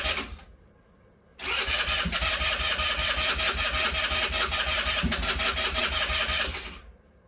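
An ATV's electric starter cranks the engine, a brief burst, a pause, then a long steady rhythmic grinding churn for about six seconds, loud and close, without the engine catching and with no talk.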